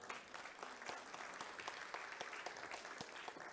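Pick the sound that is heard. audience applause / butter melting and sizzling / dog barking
audience applause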